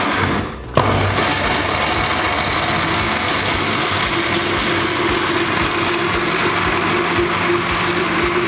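A kitchen juicer or blender grinding pomegranate seeds with spices and water starts up abruptly, then whirs at a steady, loud, high-pitched motor drone that continues evenly without pause.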